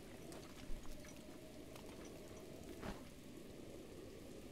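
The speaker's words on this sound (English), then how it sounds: "It's raining." Steady hiss of rain falling in the video game Zelda: Breath of the Wild, a dense, even wash of patter with a few brief louder drops, no talk.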